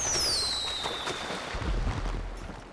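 Fireworks fired during a race in GTA 5: a whistling rocket streaks with a falling pitch, followed by crackling bursts and a low thump near the end.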